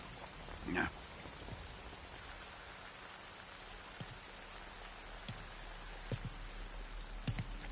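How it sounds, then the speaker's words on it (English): Soft, steady rain falls in Metal Gear Solid 3: Snake Eater, a faint even hiss broken by a few scattered drips and light taps. "You can entertain me until the rain stops."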